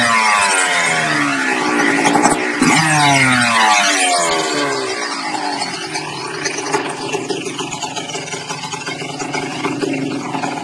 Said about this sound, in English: so I'll start it up